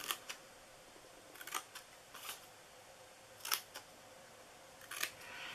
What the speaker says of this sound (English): Just cut a little bit on each side of your score mark.